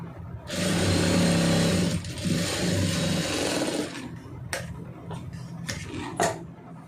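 A sewing machine runs steadily for several seconds while stitching a seam on a plain blouse, close and fairly loud, then stops, leaving a few handling clicks and taps.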